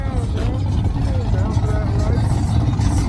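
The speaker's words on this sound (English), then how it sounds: "Hey, rev it!" A car engine revving at a busy car meet alongside trucks, a loud, rough, sustained growl with shifting pitch close by, while people talk and shout over it.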